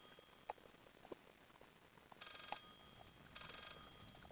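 Telephone ringing inside a house in the horror game Layers of Fear, with faint, tinny repeated rings arriving in short bursts over a quiet, hushed background.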